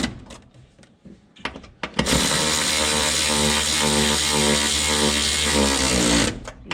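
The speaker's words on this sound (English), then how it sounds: "Let's tighten up our mounting studs on the firewall." A power tool, likely an impact or ratchet driver, whirs steadily for about four seconds while tightening mounting studs on the firewall of a 1967-era Bumpside Ford F100 during a heater core replacement, after some faint clinks of handling hardware.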